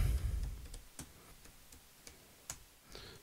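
Quiet clicks of keys as a password is typed on a computer keyboard, irregular and spaced out, with a low rumble early on and no talking.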